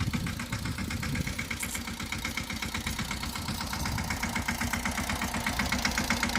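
A tractor engine idles steadily in a mango orchard, with a low, even chugging rhythm, close and continuous throughout, with no voices.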